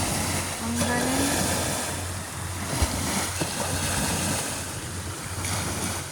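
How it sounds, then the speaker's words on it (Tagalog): Rough sea surging in at high tide off an island shore, a steady broadband wash of surf with wind buffeting the microphone, continuous and fairly loud throughout, with brief faint voices and knocks under the roar. "nagngangalit ang dagat"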